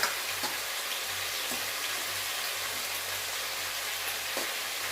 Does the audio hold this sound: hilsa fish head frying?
yes